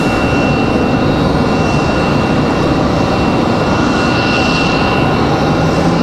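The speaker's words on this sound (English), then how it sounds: "looks like we got Republic Airways 4884 coming in from JFK" A Republic Airways jet airliner arriving from JFK at Raleigh-Durham International Airport gives a steady, loud, broadband engine roar that fills the whole span without break.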